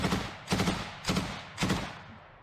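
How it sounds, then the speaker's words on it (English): A heavy-calibre machine gun fires rapid bursts, four loud rolling blasts evenly spaced about half a second apart, each trailing off into a short echo. "Just firing at rapid."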